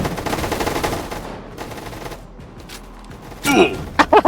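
Bursts of automatic gunfire in a Roblox Gunfight Arena match, loud rapid volleys at the start and sharp shots near the end, with a quieter stretch between.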